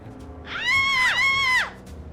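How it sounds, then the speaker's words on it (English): Two synthetic screams from pedestrians in a homemade VR driving game with ragdoll physics, each a loud, high pitched wail that holds steady and then drops sharply, one straight after the other, over a low game background hum. "I also added screams."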